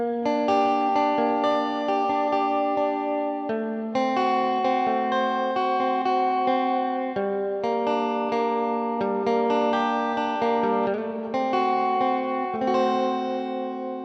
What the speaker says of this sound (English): And then the other guitar goes like this.